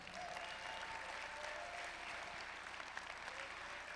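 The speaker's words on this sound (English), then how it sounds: "Why don't somebody clap your hands like there is power?" A conference audience claps hands together in a continuous, even roar of applause, very faint and distant, with no pauses or individual claps standing out.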